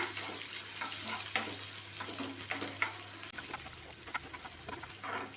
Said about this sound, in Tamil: இது கூட வெங்காயத்தை சேர்த்துக்கலாம் நல்லா வதக்கிக்கங்க